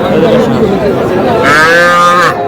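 Cattle moo loudly at a busy livestock market in Narsingdi where young bulls and heifers are for sale; one long, drawn-out low bellow rises clearly over a steady background of crowd chatter.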